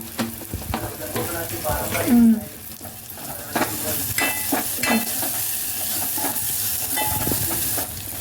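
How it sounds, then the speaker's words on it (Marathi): Masala hitting hot tempering oil in a pan for mung dal sambar, a loud close sizzle and hiss with scraping stirs and clinks over a steady frying wash. "फोडणीमध्ये मसालो टाकतोय"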